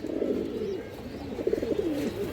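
Pet pigeons in a loft, including high-quality breeds, coo in soft rolling bursts, several throaty phrases repeating close by over a quiet background.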